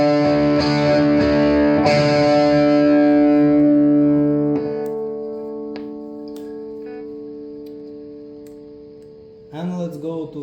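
An electric guitar through a Boss Nextone Stage amplifier on its crunch channel: strummed chords with gritty overdrive ring out loud, then a sustained chord decays slowly for several seconds before a few softer notes at the end.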